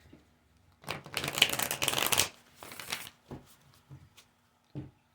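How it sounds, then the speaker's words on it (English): Cards being shuffled in a few quick riffling bursts, close and fairly quiet, followed by softer taps and handling sounds. "Let me shuffle that a couple of times."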